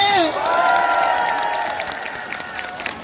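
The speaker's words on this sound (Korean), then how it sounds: "힘찬 박수 부탁드리겠습니다." Crowd in a traditional market applauding and cheering a party leader's visit, a broad wash of clapping and shouting with a rising whistle-like tone at the start, and voices throughout.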